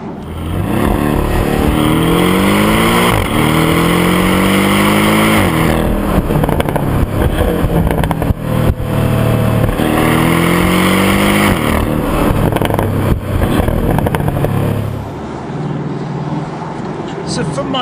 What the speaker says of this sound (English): you've kind of got that popple and the sort of pops and crackles that you'd like